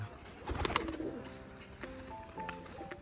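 Domestic pigeons coo softly in a loft where some sit on eggs, with low, murmuring calls and a few light flutters and knocks, quiet and close, with no talking.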